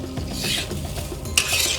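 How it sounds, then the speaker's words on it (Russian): Rice frying in aromatic oil with fried onion and carrot for a pilaf-style dish, a steady close sizzle and crackle with light stirring and a brief sharper scrape near the end. "Полюбуйтесь, каким полупрозрачным, очень красивым стал рис, и он начинает потрескивать."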